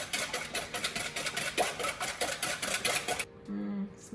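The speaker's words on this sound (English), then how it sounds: "Whisk that again." A whisk beats sugar into waffle batter in a bowl with fast, rhythmic clinking and scraping strokes for about three seconds, then stops abruptly, leaving a quieter tail.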